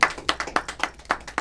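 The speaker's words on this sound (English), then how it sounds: "let's give our nice round of applause to our honoree, Kiran Bali MBE JP" Audience applause for an honoree at an Indian Independence 75th anniversary celebration, heard as crisp, close handclaps in a quick, uneven rhythm from a small group rather than a large crowd.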